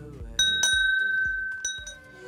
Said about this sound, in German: Klingeln.